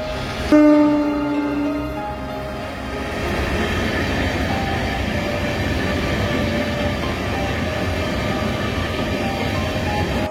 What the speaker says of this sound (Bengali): তো ট্রেনটি ঢুকছে বন্ধুরা